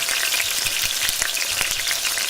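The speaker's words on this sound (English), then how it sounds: "You hear that sizzle?" Food sizzles loudly and steadily in hot oil, a dense crackling hiss with occasional pops and no one speaking.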